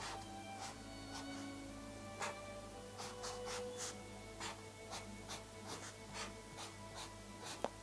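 Pen scratching across paper with something placed underneath, a run of short strokes and taps at close range with no talk, quiet throughout.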